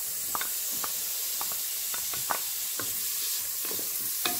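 Bacon fries with no oil in an Elechomes rice cooker, giving a steady close sizzle broken by irregular sharp crackles and pops. No one speaks.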